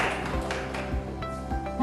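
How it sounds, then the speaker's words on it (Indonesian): Short burst of scattered clapping from a classroom of students rewarding a classmate, a few sharp distinct claps close by, with a voice over them. "terima kasih Bayu, tepuk tangan semuanya"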